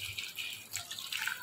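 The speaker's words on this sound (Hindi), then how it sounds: "ये डाल के अब हम इसमें डालेंगे पानी।" Water pours into a cooking pot of ground coriander and other ingredients, a steady soft hiss and splash heard alone, fairly faint and continuous.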